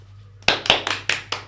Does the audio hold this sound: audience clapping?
yes